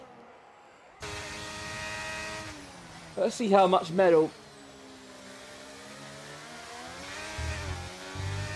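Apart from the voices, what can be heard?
Formula 1 race car engines in F1 2023 video game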